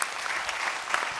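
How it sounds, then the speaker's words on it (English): Brief, dense audience applause for a panel at a telecoms conference, a steady wash of many hands clapping with no talk over it. "Ladies and gentlemen, a big round of applause for our panel."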